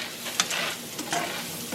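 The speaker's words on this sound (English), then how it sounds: "And you're just going to saute these just for a couple minutes." Beef sautéing with garlic salt in a hot pan, stirred with a utensil: soft continuous sizzle broken by a few scraping strokes, close and moderately loud, with no voices.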